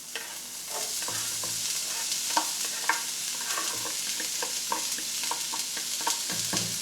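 Chopped white onion and minced garlic fry in olive oil in a skillet, a steady close sizzle broken by repeated scraping and tapping as a utensil stirs them, with no talking.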